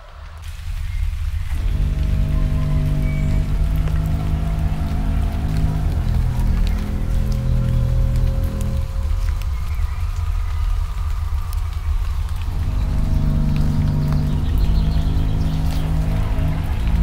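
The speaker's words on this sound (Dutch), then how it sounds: "ook al regent het" Steady rain falls throughout, a constant hiss with a low rumble underneath and no talking.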